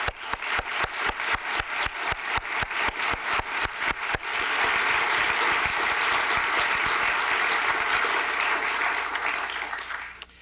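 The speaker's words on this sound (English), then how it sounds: "I ask you to join me in one further round of applause for all the finalists" An awards-ceremony audience applauds the finalists, starting with rhythmic unison claps in a regular beat that break into loud, dense, sustained applause before fading at the end.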